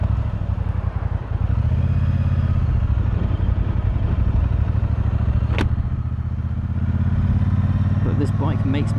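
A 2018 Triumph Bonneville Speedmaster "Highway" motorcycle is being ridden. A steady, loud engine rumble with wind noise runs continuously throughout.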